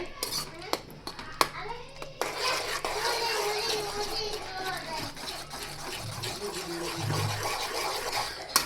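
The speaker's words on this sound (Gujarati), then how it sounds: "હવે આપણે આ બધી વસ્તુને આ રીતે હલાવતા મિક્સ કરતા જશું" A spoon stirs a grated raw potato, poha and gram flour mixture in a pan, making soft scraping and clinking against the metal, with a few sharp taps early on. A person talks over it.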